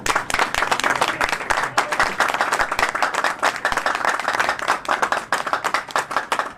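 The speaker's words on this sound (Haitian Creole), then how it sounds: "M'a demandé de nous battre un gros bravo pour nous, pour Jean-Jacques Dessalines, s'il vous plaît." A church congregation breaks into loud, sustained applause for Jean-Jacques Dessalines, with dense clapping from many hands held steady and close throughout.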